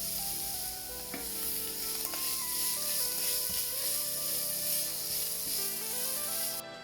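Vegetable noodles with grated carrot stir-fried in oil with sesame seeds, giving a steady close sizzle with scraping and stirring clatter throughout, no voices.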